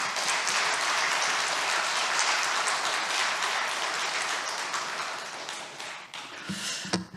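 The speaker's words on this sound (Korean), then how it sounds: "우리 목사님 나오실 때 뜨거운 박수로 맞이하도록 하겠습니다." A church congregation at a revival service applauds warmly to welcome the pastor onto the platform, with dense, sustained clapping filling the room at steady strength before tapering off near the end.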